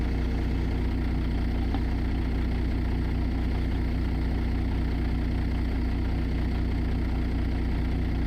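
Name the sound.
truck engine idling, C15 engine sound pack mod in a trucking video game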